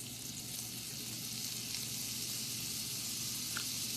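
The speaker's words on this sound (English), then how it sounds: "I'm going to melt this butter." Butter melting in a pan with olive oil, seared fish and browned crusty bits, a soft steady sizzle and crackle, close but fairly quiet, with no one talking.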